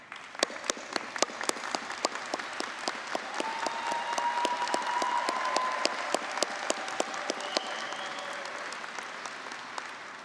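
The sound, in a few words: commencement audience applause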